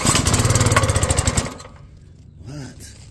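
Small pressure washer engine with the choke on, cold starting: a rapid sputtering chug that runs briefly, then cuts out abruptly, leaving near silence with a faint voice afterward.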